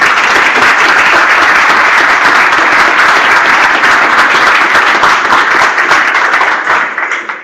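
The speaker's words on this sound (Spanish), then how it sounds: "Le damos un aplauso." Loud, dense applause from an audience at a seminar, many hands clapping in a steady wash that holds evenly before trailing off at the very end.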